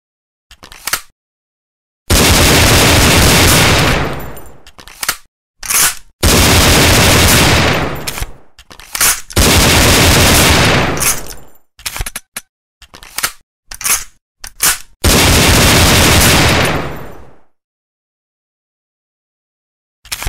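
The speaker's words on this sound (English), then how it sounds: "Fire. Jam. Reload. Freeze. Fire. Jam. Fire. Reload. Fire." A Desert Eagle pistol, apparently a replica or toy, fires in loud bursts of rattling clacks separated by silences. Between bursts come short mechanical clicks and snaps of jamming and reloading, close and alone.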